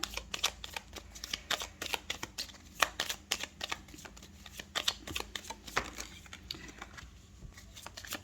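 Tarot cards are shuffled and drawn, making rapid, close papery riffles and flicks in irregular bursts, fairly quiet with no talking.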